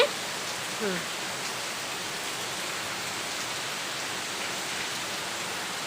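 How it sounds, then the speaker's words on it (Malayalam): Steady, dense hiss of rain pouring down, a continuous wash of noise with no breaks. "അവിടെ നല്ല വെള്ളം, നല്ല മഴയാണ്"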